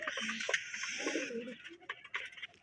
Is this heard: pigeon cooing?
yes